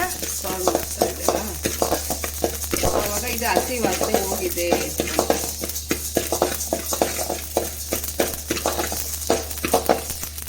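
Mustard seeds, about a hundred grams, crackle and pop while dry-roasting in a pan for homemade sambar powder, with dense, irregular close-up spattering under steady pan noise and brief stirring clatter.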